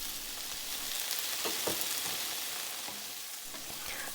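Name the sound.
tomato wedges frying with garlic in oil in a pan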